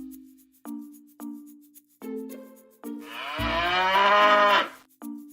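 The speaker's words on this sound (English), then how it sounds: "5 cows." A cow gives one long, loud, full-throated moo near the end, after a voice calmly counts out several short tones.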